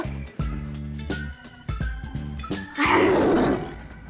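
A tiger roaring effect: a loud, rough, noisy roar swells near the end after a stretch of tonal music with sharp hits, sounding close and dominant.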